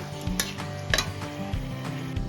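Whole cardamom, cloves, dried red chilli and bay leaf fry in hot oil for a Bengali dahi katla fish curry, a soft sizzle broken by several sharp clinks of a spoon stirring against the pan.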